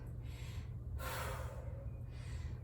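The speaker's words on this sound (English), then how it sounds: "I'm just breathing for a moment." Heavy, audible breaths in and out during a rest in a sandbag workout, two or three deep gasping inhales and exhales close to the microphone over a quiet background.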